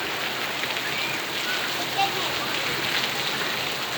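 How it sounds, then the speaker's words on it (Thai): Light rain falls steadily, a soft even patter close by with no break, faint and continuous. "ยามฝนเล็กน้อยเลย"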